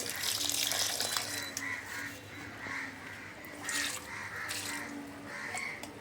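Compost tea poured onto potted garden plants gives a steady splashing water sound with some brighter bursts, heard alongside outdoor background noise.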